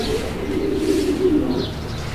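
A German Schadel racer pigeon coos in a steady, low, continuous murmur close by, with faint higher chirps from other birds in the background and no speech.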